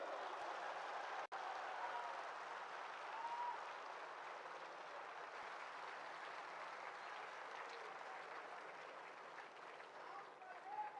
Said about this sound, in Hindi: डॉक्टर जाकिर नाइक साहब का भरपूर तालियों में इस्तकबाल कीजिए।